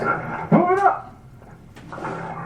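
Police dog barking and whining in a clip of police restraining a man, a short burst of yelps with harmonic whines near the start, then a faint, quieter tail.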